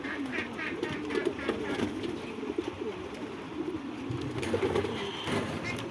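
Pigeons cooing at a pigeon farm with silver pigeons, repeated soft throaty coos rising and falling close by, several birds overlapping in an irregular rhythm against light background noise.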